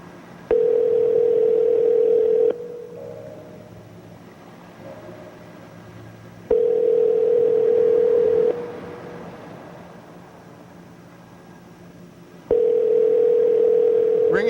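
Telephone ringback tone on a call, loud steady bursts of about two seconds repeating roughly every six seconds with quieter line hiss between, three rings heard before voicemail picks up.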